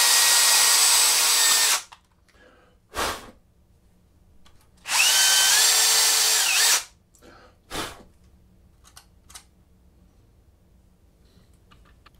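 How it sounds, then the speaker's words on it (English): A power drill whirs loudly in two bursts of about two seconds each, with short knocks and clicks between them in a quiet room. "also freehand drilling"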